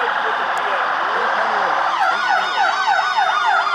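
A Buffalo Grove Fire Department truck in the 2024 Buffalo Grove Days Parade sounds its siren up close and loud. A rising wail shifts into rapid, repeated yelping sweeps.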